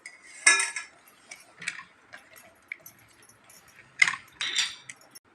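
A spoon clinks against a bowl while quail is mixed with cumin powder, curry leaves and sesame oil, in a few short separate bursts with quiet gaps between them.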